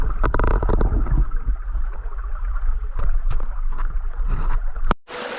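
Water rushes over a small bedrock waterfall in a creek. The flow is a steady, close, broad rush and gurgle with a few knocks, and it cuts off abruptly near the end.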